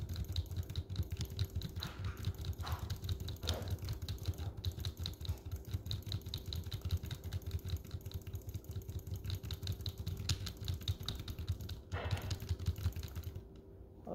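Steady computer keyboard typing runs close and continuous under a low constant hum, with a few brief sharper clicks.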